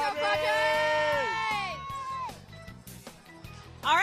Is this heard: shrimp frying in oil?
no